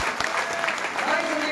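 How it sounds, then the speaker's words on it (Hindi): A crowd at a Congress party gathering in Haryana gives loud, steady applause welcoming Sandeep Lot, continuous clapping throughout while a voice speaks over it. "जोरदार तालियों से स्वागत किया"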